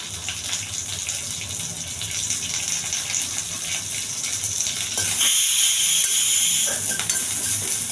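A pressure cooker cooking peas gives off a continuous, loud steam hiss. About halfway through, the release becomes noticeably brighter and stronger, with no talking.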